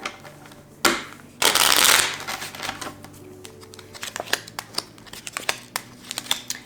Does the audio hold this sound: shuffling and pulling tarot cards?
yes